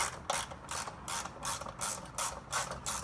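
A ratchet tightening the fuel filter on a 2017-2019 Ford F-250 with the 6.7 Power Stroke engine, giving a steady rhythm of about eight loud, close clicking bursts with no talk.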